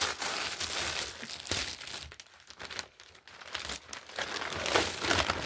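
A plastic storage bag crinkles and rustles continuously at close range as it is handled and squeezed, loud and busy throughout with brief dips.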